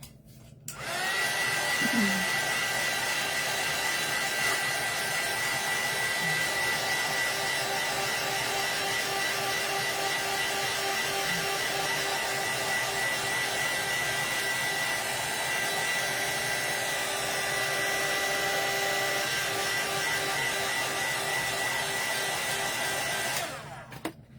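A handheld electric heat tool blasts hot air to dry work for primitive-style corn on the cob, a steady loud whirring drone that holds evenly for over twenty seconds with no talking.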